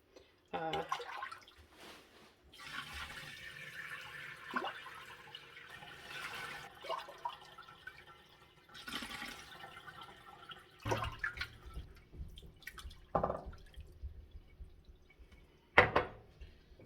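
Whey poured off Lancashire-style cheese curds into a colander, heard as intermittent liquid splashes and trickling drips with a few louder bursts, close by and fairly quiet.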